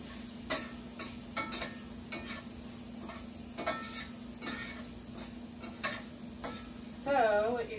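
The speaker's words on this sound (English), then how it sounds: "you're going to fry these onions so they start looking translucent" Onions fry in a pan with a steady sizzle for shepherd's pie, broken by frequent clinks and scrapes of a utensil stirring against the metal, close and continuous.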